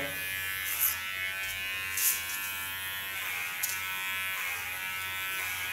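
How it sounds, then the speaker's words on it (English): Kiona electric hair clipper buzzing steadily while cutting hair, a close, even high-pitched drone with brief crisp snips and brushes as the blades move through hair, no voices. "As a clipper I have a Kiona clipper"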